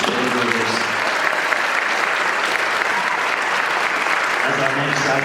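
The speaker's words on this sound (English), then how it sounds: "I'll have one more round of applause for Levi and Ethan, the fantastic dancers." An audience at a Celtic summer concert claps for the dancers, sustained dense applause filling the hall from start to finish, with faint voices mixed in.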